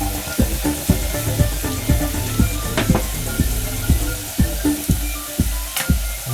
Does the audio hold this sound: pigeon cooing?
no